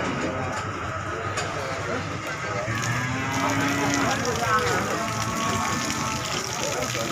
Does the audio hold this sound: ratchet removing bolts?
no